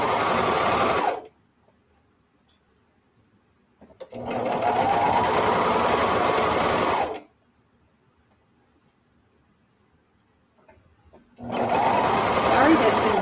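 A serger stitches swimsuit fabric in three loud, steady whirring bursts of a few seconds each, with near silence between runs.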